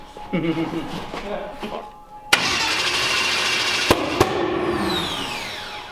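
A twin-turbo 427 LS-swapped Camaro engine cranks with a steady, loud mechanical churning that runs for several seconds without catching. Voices talk briefly before it, with a couple of sharp clicks.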